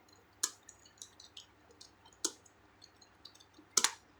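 Sparse, irregular clicks from a computer keyboard as text is typed into an MS Word document, a few sharp taps spaced out over quiet background with no talking.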